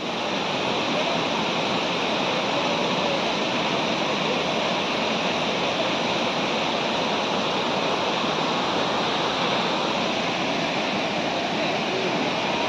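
Steady, loud roar of the Anachadikuthu waterfall in Kerala, a dangerous cascade, rushing and crashing continuously and close by with no pauses.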